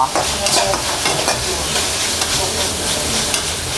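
Shiitake mushrooms seasoned with a little sauce are stir-fried in a wok for vegetarian mee sua, producing a loud, steady sizzle over a continuous scraping stir.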